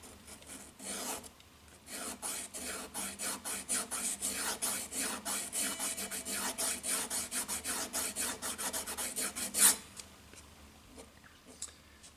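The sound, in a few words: polishing guitar nut with 1000 grit sandpaper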